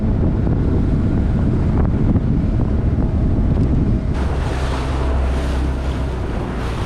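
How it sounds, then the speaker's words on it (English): Waves break on an Australian reef as a steady, loud roar of surf, heavily buffeted by wind noise on the microphone, with a denser wash of breaking water toward the end. "I'm just heading in towards this breaking reef here"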